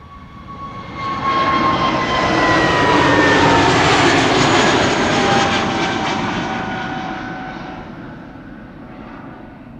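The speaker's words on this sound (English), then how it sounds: "EasyJet A320neo to Liverpool, flight 23442." An Austrian-registered easyJet Airbus A320neo departs Schiphol, its jet roar swelling from distance to a loud peak with descending engine whine tones, then fading as it passes and climbs away.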